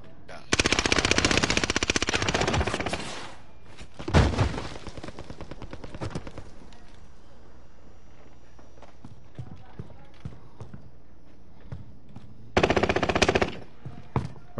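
Heavy automatic gunfire in a video game on the Caldera map, loud sustained bursts at the start, around four seconds and near the end, with players talking between volleys.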